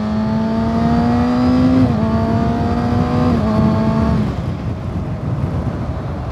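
A 2022 Kawasaki Ninja ZX6R motorcycle engine drones loud and close under acceleration, its pitch climbing and then dropping at each of two gear shifts before easing off.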